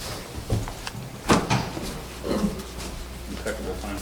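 A courtroom door opens and bumps as someone walks in, a few soft clunks and knocks amid room noise with people speaking nearby.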